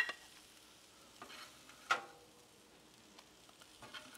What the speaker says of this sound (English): We're gonna take our big spatula and go right underneath, pull those eggs off.